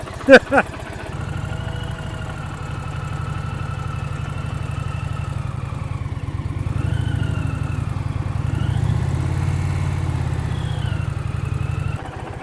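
An Indian motorcycle engine at low throttle during slow-speed riding practice in Florida, a steady close idle-like rumble with a couple of sharp blips at the start and slight rises in revs midway.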